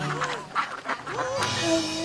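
Ducks quack close by in a short run of several nasal, honking calls that overlap one another.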